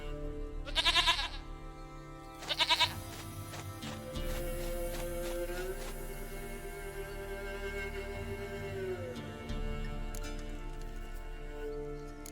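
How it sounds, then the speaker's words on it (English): Goat in The Witcher 3: Wild Hunt bleating twice in quick succession, two short wavering cries near the start over a low game ambience and soft music bed, with faint background sounds after. "Goat of mine, dearest, sweetest goat."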